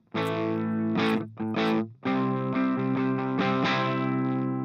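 An electric guitar played through a Mooer distortion pedal on the dirty channel, with heavily distorted sustained chords and a few choppy stabs at the start, loud and close with no talk.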